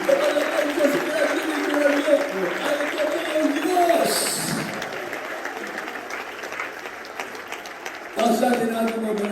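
A church congregation claps together in dense, sustained applause that fades midway and then swells again, with a voice speaking over it.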